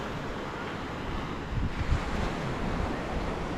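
Ocean waves wash steadily onto a busy Manila beach on a calm afternoon, a continuous soft rushing surf with light wind noise and a slightly stronger swell midway, no voices.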